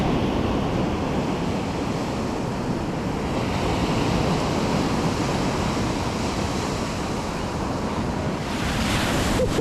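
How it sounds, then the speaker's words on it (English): Waves break continuously on a Lake Michigan shore, a loud, dense wash of surf mixed with wind buffeting the microphone, steady for the whole stretch. "cast it out in the waves"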